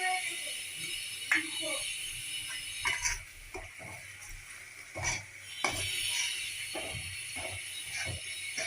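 Poppy seed paste masala stirred and fried in a pan for a cauliflower malai curry, with repeated scraping and clinking of a spatula against metal, soft sizzling underneath and faint talk in places.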